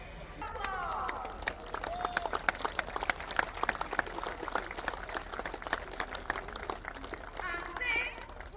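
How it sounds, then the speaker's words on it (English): A distant airshow crowd at RIAT applauds a display team, producing a faint, steady patter of clapping that runs throughout beneath an announcer's amplified voice. "Applause!"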